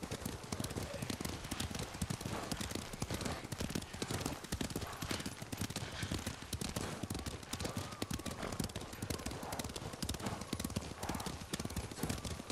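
Horse hooves clip-clop steadily and loudly in the video game Ghost of Tsushima, a continuous rhythmic clatter of many hoofbeats over a dense, busy background that runs for about twelve seconds.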